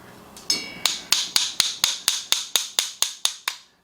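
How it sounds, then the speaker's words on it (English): A hammer striking a 15mm socket to drive a bearing on a Stihl MS210 chainsaw, thirteen sharp metallic blows in a steady, quickening rhythm, close and ringing, each followed by a brief decay. "So use a 15mm socket and my mighty Thor hammer."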